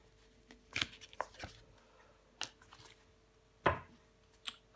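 Tarot cards being handled as one card is laid over another, a few soft papery slaps and flicks scattered over a quiet background.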